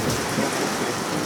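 Steady rain pours down outdoors on a hayfield during a scythe-mowing lesson, a dense, close hiss of drops hitting surfaces with no voices over it.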